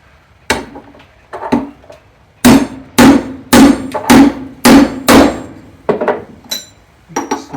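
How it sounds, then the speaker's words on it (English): A chilled wheel bearing is driven in with a socket on a 1967 Triumph T100C, heard as a series of sharp, close metallic hammer strikes, uneven at first, then a quick regular run of blows, then a few lighter taps. "Next, I'm going to install the bearing."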